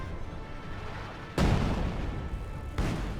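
Su-76 self-propelled gun artillery barrage in Company of Heroes 2, two heavy booming shell bursts landing about a second and a half apart over a low rumbling battlefield background.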